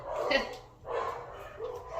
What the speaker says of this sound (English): my dogs are getting ready to bark, by the way, in about now